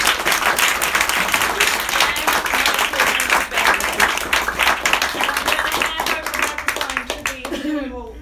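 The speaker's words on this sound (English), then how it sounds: "Please give them a round" An audience applauds a panel at the close of a discussion, a sustained wash of many hands clapping loudly that fades out at the end as a voice starts to speak.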